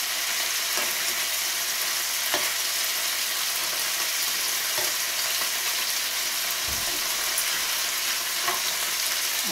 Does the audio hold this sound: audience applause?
no